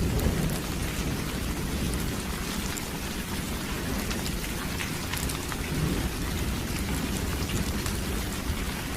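Heavy rain pours steadily on a stormy night while thunder rumbles low and continuous beneath it, with no voices over the dense, even downpour.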